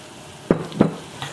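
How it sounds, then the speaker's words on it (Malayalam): Onions fry with turmeric powder in a pan for parippu curry. Two quick stirring scrapes land about a third of a second apart over a soft, steady sizzle, close and fairly quiet. "ഈ മഞ്ഞൾപ്പൊടി ഇതിനകത്ത് കിടന്നിട്ട് നന്നായിട്ട് മുരിയണം"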